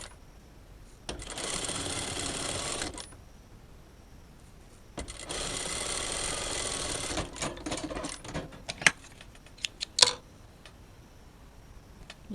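A sewing machine topstitches a seam through two layers of fabric, running in two close, steady bursts of rapid mechanical stitching separated by a pause, followed by scattered clicks and taps.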